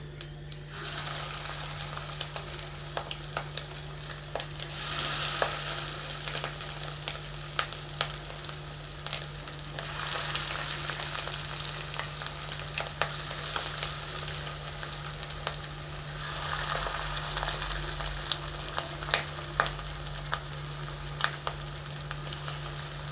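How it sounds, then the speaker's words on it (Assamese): Fish eggs frying and being stirred in a pan for an Assamese fish-egg curry, making a continuous moderate sizzle with occasional sharp spatula scrapes and no talking. "এয়া মই ডিমখিনি পকৰি বনাই আছোঁ।"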